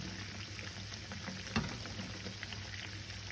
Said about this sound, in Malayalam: അതേ എണ്ണ ഇങ്ങനെ തിളച്ചിരുന്നുണ്ട് കേട്ടോ